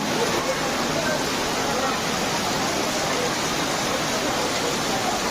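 Torrential nighttime rain at an outdoor puja celebration pours in an unbroken, loud hiss, uniform and close throughout without breaks or other clear sounds.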